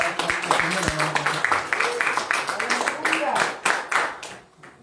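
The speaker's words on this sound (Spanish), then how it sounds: "Denle un fuerte aplauso al Señor." Congregation applause in a Spanish-language church service, a burst of irregular claps of moderate loudness that continues for several seconds and fades at the end, with voices and a brief tone mixed in early.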